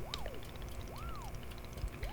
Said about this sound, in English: It is the traditional rail train and waterfall dishwashing system, as in olden times.